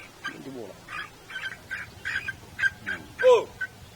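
Gamecocks at a cockfight clucking and squawking in a string of short, rough calls, some overlapping, fairly close with a low background murmur.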